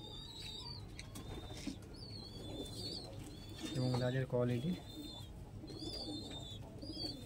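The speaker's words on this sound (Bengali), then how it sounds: "পায়রা খুব বিগ সাইজের পায়রা" Large pigeons, old-generation Lalsira and Teddy breeds, coo in a low soft burst near the middle, with birds chirping faintly and someone speaking over them.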